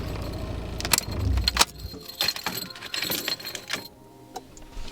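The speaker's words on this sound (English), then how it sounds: "Let me just shut off the car really quick." Keys jangle close by in an Abarth fitted with a CAE shifter as the car is shut off, a few bright metallic rattles and clicks over a quiet cabin, then near silence at the end.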